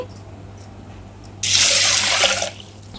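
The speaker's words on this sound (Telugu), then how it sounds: "అందులోకి ఒక కప్పు కందిపప్పు వేసుకొని శుభ్రంగా వాష్ చేసుకుందామండి" Water pours and splashes as a cup of toor dal lentils is washed in a bowl, a loud burst of running, sloshing water lasting about a second after a few quiet drips, then settling back to a low background.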